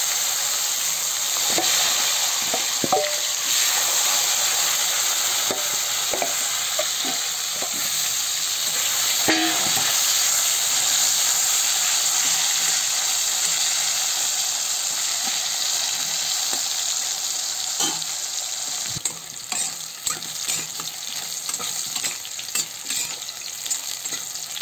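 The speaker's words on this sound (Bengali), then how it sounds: "তেলে আলু কাঁচা কলা কটা ভেজে নেব।" Potato and raw banana pieces fry in hot oil in a home kitchen, giving a steady, loud, continuous sizzle with occasional soft clinks and stirring knocks.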